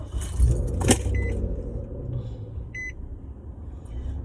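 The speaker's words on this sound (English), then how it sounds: "Let me lock my car right back" A car being locked at night: keys jangle close up, then short electronic beeps chirp from the vehicle against a low steady background.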